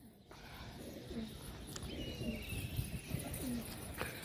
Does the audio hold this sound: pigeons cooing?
yes